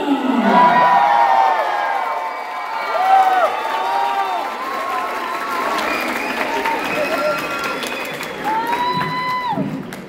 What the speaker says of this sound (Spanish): reciban con un fuerte aplauso en este escenario al señor